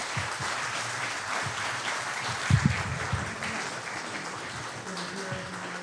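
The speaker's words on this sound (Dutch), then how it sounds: "Er komt een applaus." Audience applause fills a talk venue with steady dense clapping throughout, moderately loud, with a few low thumps and faint voices mixed underneath.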